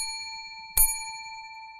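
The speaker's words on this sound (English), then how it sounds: "The ticket bell rang twice from the kitchen" A kitchen ticket bell, struck once with a bright metallic ding that rings on in clear sustained tones against an otherwise quiet background.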